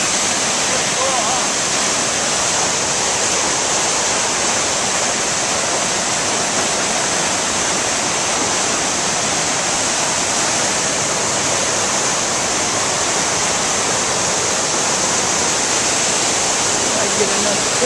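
Johnson Falls pours in a dense, constant broadband roar, loud and close, with no break over the whole stretch.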